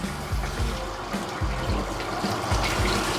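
A gentle shower-head stream splashes steadily while a dog is bathed, making a continuous close rush of water with soft fluctuations and no speech.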